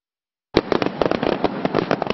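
Fireworks burst in a rapid crackling barrage at Universal Studios Florida at night, starting suddenly after a moment of silence, a dense run of loud pops and sharp cracks.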